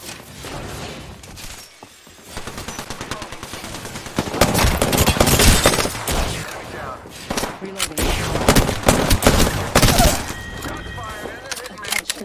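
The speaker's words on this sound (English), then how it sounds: "They're aiming right at you. Got a bad guy. They spotted me. I'm taking shots." Rapid gunfire bursts during a video game firefight in a battle royale match, loud and dense with repeated volleys and clattering shots, under game effects and a player talking over the action.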